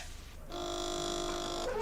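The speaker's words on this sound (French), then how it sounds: "une sonnerie rythmant chaque opération" A fast-food kitchen timer gives one steady electronic ringing tone that sounds for about a second over the quiet hum of the kitchen, close by and held without a break.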